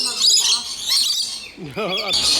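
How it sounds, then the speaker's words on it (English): Several birds squawk and chirp up close at a zoo bird feeding, in a busy, overlapping cluster, harsh calls rising and falling with hardly a pause. "So many birds on me right now."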